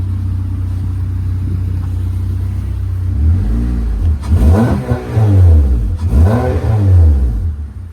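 A Honda Accord with aftermarket exhaust pipework idles with a low steady rumble, then is revved hard twice, each rev rising and falling in a loud, close, throaty burst.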